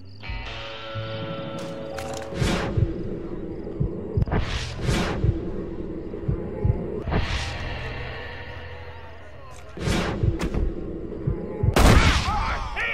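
Gunfire in the Western video game Red Dead Redemption: loud, close gunshots with booming reports in scattered bursts, mixed with whooshes and game sound effects.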